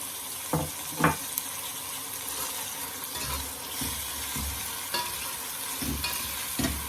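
Shrimp simmering in a coconut milk curry, a soft steady bubbling and sizzle with occasional stirring scrapes and clinks, close and moderately loud with no talking.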